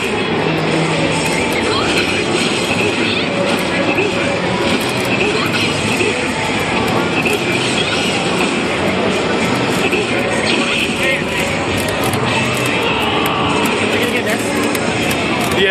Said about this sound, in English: It's the local train, not the big train.